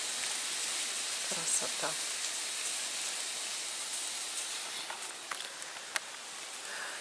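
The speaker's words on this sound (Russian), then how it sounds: "Наконец-то дождик пошел." Rain falling outside an open window, a steady broadband hiss with soft patter throughout, with a few faint distant clicks; someone speaks briefly over it.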